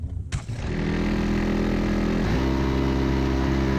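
A car engine cranks and catches during a coolant drain and refill job, then settles into a steady, close idle with an even low hum that keeps running alone, with no talking.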